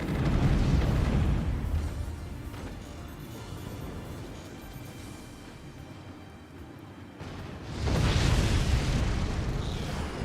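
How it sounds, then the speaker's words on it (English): Bombs rain down in a Forts RTS battle, producing heavy rumbling explosions: a dense, sustained barrage of booms that fades toward the middle, then a fresh loud wave of blasts erupts near the end. "Another wave of bombs."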